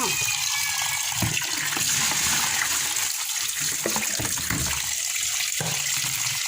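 Tap water gushing steadily into a basin while squid is washed by hand, a constant loud close splashing with sloshing shifts as the squid is moved through the water.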